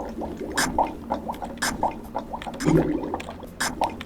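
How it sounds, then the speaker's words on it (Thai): Drowning sound from the Roblox game Evade: muffled, bubbling underwater gurgles with repeated watery bursts and swishes, a continuous murky liquid sound close up. "นี่เสียงอะไรเนี่ย เสียงเราจมน้ำเหรอ"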